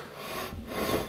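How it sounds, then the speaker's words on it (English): The barrel of a wheel on a BMW E46 M3 rubs against the lower control arm, making a steady, close scraping rasp with a gentle swell in intensity over about a second. "the barrel of the wheel right here is acting as a bump stop against the lower control arm. So you can hear it rubbing on there."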